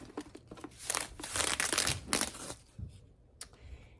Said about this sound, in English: Let's unwrap the handles so you can see what that looks like